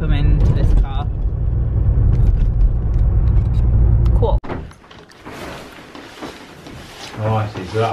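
Heard from inside a moving car on the road, with a loud, steady low rumble that shifts into a lighter road noise partway through. People talk over it.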